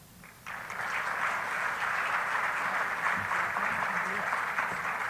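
An audience at a convening event breaks into applause after a speaker's story, steady clapping that swells in after a brief quiet start and continues at moderate loudness.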